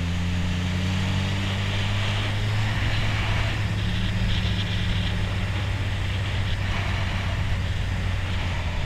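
A Honda CB1000R motorcycle fitted with a K&N air filter accelerates along a track, its engine a steady, loud drone mixed with heavy wind rush.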